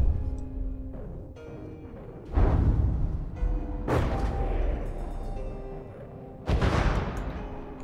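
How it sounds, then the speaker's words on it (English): A cheap little missile launcher fires in a video game: three heavy, booming launch blasts land at roughly two-second intervals, each one loud and close with a rushing tail, over a constant rumble of battle. "Cheap little missile launcher"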